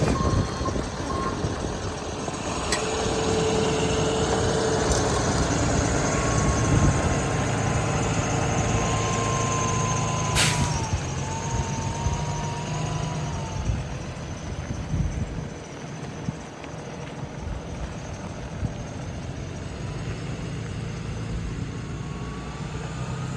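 An RV pulls forward and swings around a corner on a road trip, its engine a steady, fairly loud drone with road rumble throughout, a few faint beeps and a brief rising tone partway through.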